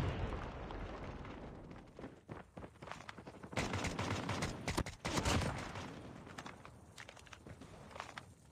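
An SKS rifle fires in a Call of Duty multiplayer ranked match, with rapid repeated shots and bursts over a busy battlefield clamor that grows louder in the middle, alongside scattered footsteps.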